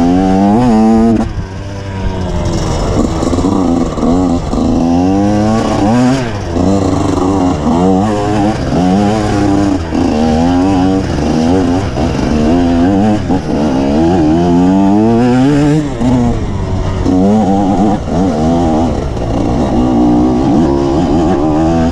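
A 2019 MXF 250 TS dirt motorcycle engine is revved hard and loud up close, climbing and falling in repeated aggressive throttle blips with a raw, buzzing exhaust throughout.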